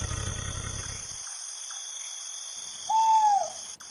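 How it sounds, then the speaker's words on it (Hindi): An owl hoots at night, a clear wavering call rising over a faint, steady insect-like hiss, preceded by a soft low rustle; distant and eerie, with no voices. "कुछ ऐसे पक्षियों की आवाजें गूंज रही थी जो माहौल को और भी डरावना बना रही थी।"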